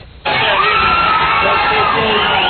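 A large crowd cheers and whoops for Howard Stern, the shock-jock radio host. The roar starts abruptly and stays loud and dense throughout, with shouting voices mixed into the noise.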